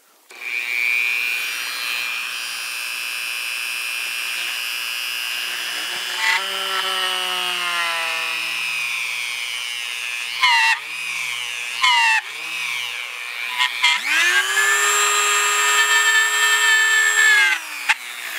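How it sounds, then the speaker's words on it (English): A powered bit whines steadily as it bores into wood, its pitch sagging under load and rising again as it spins free, with brief pauses between passes. "So I'm just using this bit here to plunge a hole in. You could also use a drill."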